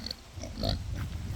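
Pigs in a barn at a wool mill give low, close grunts and snuffles in short irregular bursts over a muffled indoor background.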